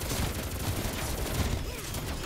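Dense gunfire in Call of Duty Cold War Zombies on the Die Maschine map, rapid shots merging into a loud, continuous fusillade that fills the whole moment.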